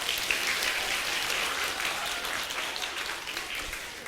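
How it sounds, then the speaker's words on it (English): A live audience at a motivational talk applauds steadily, a dense, even wash of clapping that holds loud for the whole stretch and eases slightly at the end. "Give yourself a round of applause,"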